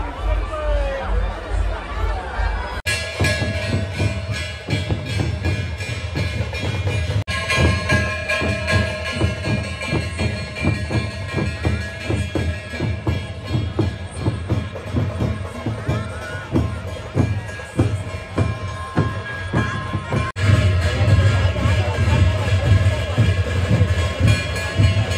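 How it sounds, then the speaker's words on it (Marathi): Dense crowd chatter at the Bhairavnath temple fair, a continuous babble of many voices mixed with a low rumbling hum, steady and close throughout with no single voice standing out. "इथं खूप गर्दी जत्रेमध्ये"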